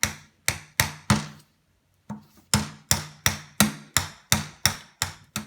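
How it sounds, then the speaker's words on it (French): A toy hammer from a Fabrikid toy sword building kit tapping repeatedly on the kit's pieces, about a dozen sharp close knocks in quick rhythm with one short pause early on. "Allez, tape avec ton marteau."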